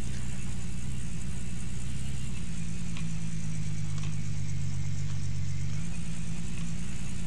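Truck engine running steadily, a low rumbling drone that holds a continuous pitch throughout, heard close and alone with no talk.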